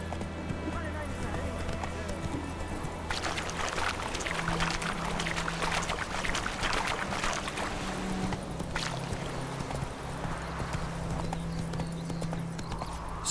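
Horse hooves clip-clop at a steady trot in The Witcher 3, a rhythmic clatter running throughout, while someone talks over the game sound.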